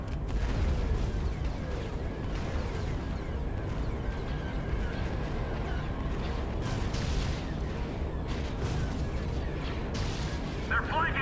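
Space battle in a Star Wars Republic strategy game, with missiles, rockets and laser cannons firing in a constant dense barrage of booms and blasts, and voices calling out over the fighting.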